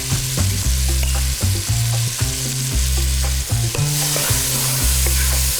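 Leeks, garlic and salt sauté in a pan with a steady sizzle that runs beneath prominent rhythmic background music.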